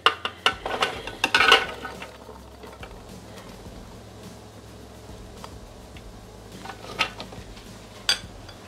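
Sliced zucchini drop into a Thermomix bowl with a cluster of clattering knocks, followed by quieter ticking and the faint hum of the machine, close and without speech.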